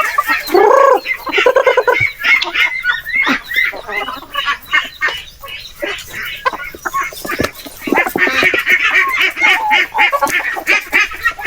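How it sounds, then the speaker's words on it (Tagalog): A crowd of free-range native chickens clucks and squawks continuously close by, with some loud honking calls mixed in, busy and noisy throughout. "itong ating mga native na manok pinakawalan natin"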